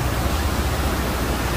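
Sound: swollen river rushing after heavy rain

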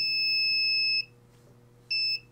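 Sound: electronic buzzer buzzing

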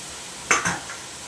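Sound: papaya and green chilli frying in a pan

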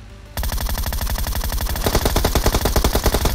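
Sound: gunfire in PUBG Mobile video game

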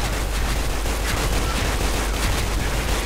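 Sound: SIG-551 rifle gunfire in video game Special Force 2

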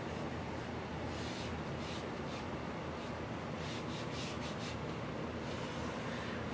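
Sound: rubbing down painter's tape on painted furniture

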